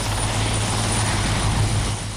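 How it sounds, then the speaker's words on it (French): Helicopters Tango 311 and Tango 314 touch down at an airport. A loud, steady rotor and engine roar with a low droning hum fills the whole stretch, and no one speaks. "les hélicoptères Tango 311 et Tango 314 se posent de nouveau à Médane"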